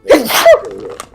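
A single sharp, loud sneeze up close, a quick intake of breath bursting into an explosive exhale.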